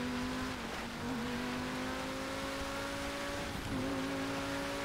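A McLaren P1 engine in a racing video game drones at a sustained high pitch, dipping briefly as the throttle lifts and then climbing again through a gear shift, loud and continuous.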